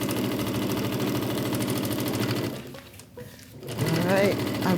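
A sewing machine stitches the borders onto a quilt block with a steady fast mechanical whir that pauses briefly partway through, then resumes with a voice speaking over it.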